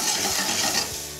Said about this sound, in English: If you shake the pan or swirl the pan, what happens, they roll on themselves.